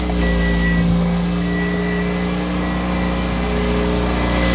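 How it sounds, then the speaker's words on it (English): A 2007 Toyota Corolla engine idles steadily just after a spark plug and gasket replacement, a close, loud, even hum with smooth tonal drone and no obvious stumbles, running alone without talk. "All we're gonna do now is just start it, make sure everything sounds good, that it starts up, that it's not misfiring"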